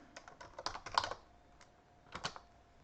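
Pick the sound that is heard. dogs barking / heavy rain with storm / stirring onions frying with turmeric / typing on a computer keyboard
typing on a computer keyboard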